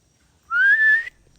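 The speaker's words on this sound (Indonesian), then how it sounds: "Coba gua pakai siulan ya, men." A single sustained whistle, one clear rising note held for about half a second against near silence.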